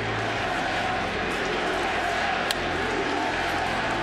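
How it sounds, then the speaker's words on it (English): A dense baseball-stadium crowd roars steadily on the night Bin Laden's death is announced, a continuous loud wash of many voices swelling into a USA chant. "Chant of USA as the news goes through the crowd"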